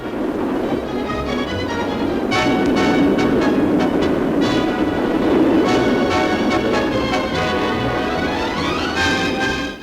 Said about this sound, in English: All set for a trial run in Yorkshire from Bradford to Leeds is one of British Railways' new lightweight diesel trains.